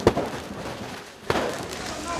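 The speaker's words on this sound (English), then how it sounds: "The protesters are shooting fireworks now towards the police." Protesters shoot fireworks toward police during a 2014 Ukrainian street clash, giving two sharp nearby bangs about a second apart amid a loud crowd and voices.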